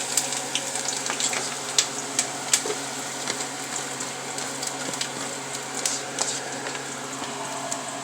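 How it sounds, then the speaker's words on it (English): Onions land in a pot while shrimp stock for seafood gumbo is being made, bringing a steady close sizzle and bubbling with scattered light clicks and splashes, no talking. "Let's go ahead and throw my onions in there."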